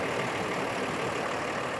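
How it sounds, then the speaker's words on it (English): A diesel engine idles in a 2023 Renegade Verona 36VSB Super C RV, giving a steady, even rumble with broad hiss and no voices over it. "definitely got to talk loud with the diesel engine going"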